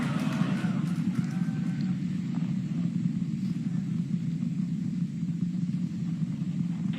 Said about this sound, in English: We're seeing 32 out of 33 engines lit on the Super Heavy right now.